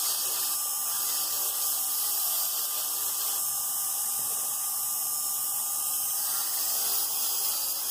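A 1.6 mm dental bit grinds into fire agate, a steady high-pitched whine with a constant tone running unbroken throughout, close and fairly loud, with no talking.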